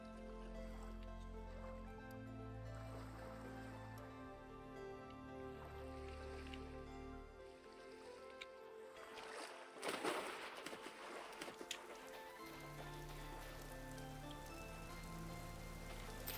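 Rain in the video game Vintage Story patters steadily and softly on surfaces, a faint continuous hiss under sustained background music, with one brief louder splash in the middle.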